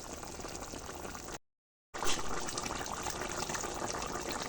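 Fish and pointed gourd simmer in a pan, giving a steady, close, hissing bubble that runs continuously except for a brief gap of silence partway through, with no talk.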